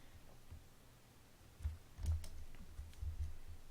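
Computer keyboard keys pressed while working in Photoshop on a character illustration, a few soft, close clicks and taps in a quiet room with no talking.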